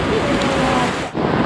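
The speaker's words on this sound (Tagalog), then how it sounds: "Ulan." Heavy rain falling steadily as broadband hiss, loud and close, with wind-like rush and a brief dip near the end.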